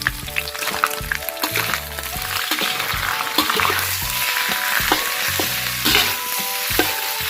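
Thick fermented fish sauce bubbling in a pot over a charcoal stove, with a steady crackling sizzle and repeated stirring or scraping knocks under faint background tones, held up close throughout.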